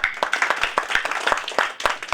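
An audience of medical community members clapping at an awareness event, distinct individual claps in an uneven rhythm, moderately close and clear, with no other sound over them.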